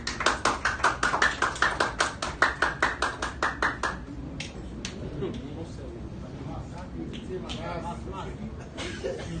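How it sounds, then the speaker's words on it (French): A crowd claps in rhythmic unison at an installation ceremony for a new justice and public security minister, loud regular beats that break off after about four seconds into scattered claps and murmuring voices. "avec vos applaudissements, s'il vous plaît"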